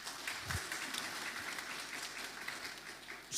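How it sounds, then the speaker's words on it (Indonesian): A church congregation applauds in a short burst of clapping that sounds faint and somewhat distant, filling the room briefly. "Saudara tepuk tangan dulu."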